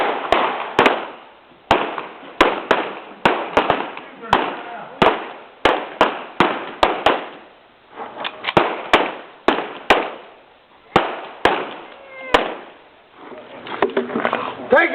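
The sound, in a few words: shotgun shots in a staged western show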